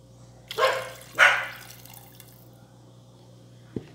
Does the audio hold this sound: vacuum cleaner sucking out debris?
no